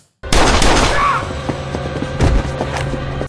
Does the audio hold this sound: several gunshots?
yes